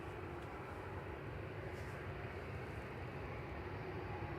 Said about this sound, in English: 777 departing shortly.